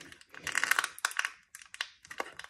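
Plastic wrapping on a Koskenlaskija cheese package crinkles and rustles as it is opened, in close, sharp bursts broken by brief pauses.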